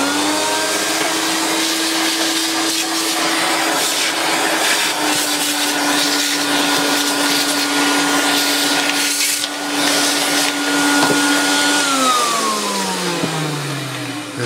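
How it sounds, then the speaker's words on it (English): A Dyson DC50 vacuum cleaner, just cleared of a blockage, runs with a loud, steady motor whine and airflow roar, its pitch sliding downward near the end as it winds down. "There we go, give it another quick vacuum."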